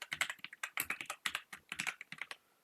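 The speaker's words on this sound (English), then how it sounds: "Hopefully you're not getting too much noise from keyboard" A computer keyboard clicks in fast, irregular bursts of keystrokes, close and crisp, with brief pauses between runs and no voices.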